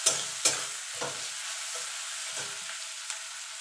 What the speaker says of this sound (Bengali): এবার পেঁয়াজটাকে লাল লাল করে ভেজে নেব।